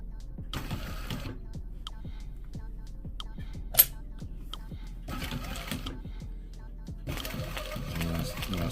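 An Atlas sewing machine stitching car carpet runs in a low steady whir with rhythmic needle ticks, rising in short louder bursts, one sharp click in the middle.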